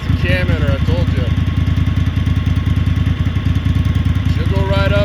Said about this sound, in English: Sounds like she has a cam in her